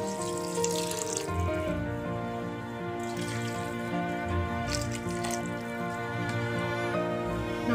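Water is poured from a glass into a cooking pot for a South Indian methi pulao. It splashes and gurgles close by, then drips and trickles off.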